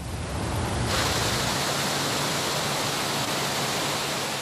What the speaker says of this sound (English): Take a look at this waterfall.